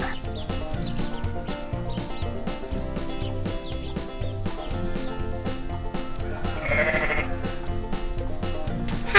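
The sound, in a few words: sheep bleating on a farm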